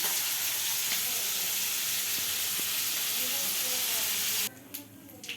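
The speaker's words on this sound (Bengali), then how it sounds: "আমি এটার মধ্যে একটু কালো জিরে ফোড়ন দিয়েছি।" Black cumin seeds sizzle loudly in hot oil left from frying fish, a steady dense crackling hiss that runs unbroken until it suddenly quietens near the end to a few softer spits.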